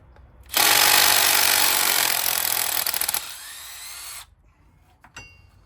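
A power tool drives a 5mm Allen socket to remove the brake caliper pins on a Honda TRX500 Foreman ATV. It gives a loud, steady whir for about three and a half seconds, then cuts off and is followed by faint handling noises.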